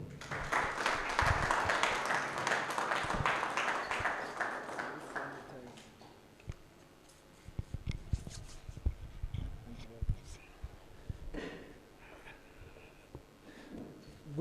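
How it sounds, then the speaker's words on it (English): Applause from an audience at a Limpopo evening gathering for a provincial chair, a broad crackling wash that swells loudly for about six seconds and then fades into scattered claps, murmurs and room noise. "Can we please give a huge round of applause for the Provincial Chair"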